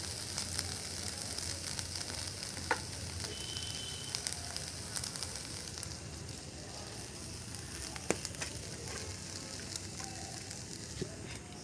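Taro flowers fry in a pan with a steady, close sizzle and crackle that runs throughout. Occasional soft scrapes and knocks come from stirring.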